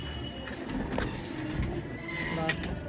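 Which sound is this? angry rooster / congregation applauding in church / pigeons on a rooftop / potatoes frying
pigeons on a rooftop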